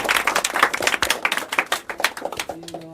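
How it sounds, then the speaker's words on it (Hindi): A classroom of students clapping together on cue during an offline objective history test session, fast loud uneven bursts of close handclaps lasting a few seconds before fading out. "मारो ताली।"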